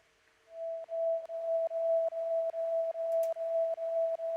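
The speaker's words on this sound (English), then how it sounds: "Got a drone." A synth drone in an electronic song, a steady pure mid-pitched tone that swells in and holds, pulsing rhythmically at regular short intervals, with faint ticking and a brief high blip, no voice.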